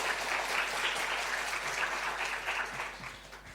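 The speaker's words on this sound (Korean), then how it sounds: "얼마나 감사한지 우리 뜨거운 박수로 한번 격려하겠습니다." A church congregation claps warmly during a Sunday worship service, a dense, steady wash of many hands filling the room without pause and tapering slightly at the end.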